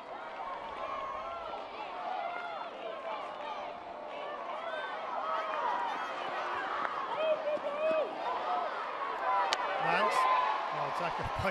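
Large crowd at a women's hockey final between Australia and Argentina, a dense continuous roar with swelling cheers and scattered whistles, under commentary.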